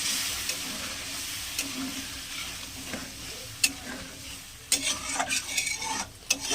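Fish pieces go one by one into a simmering fish curry with a little water, a gentle bubbling sizzle broken by several distinct splashes and utensil knocks, clustered toward the end, without speech.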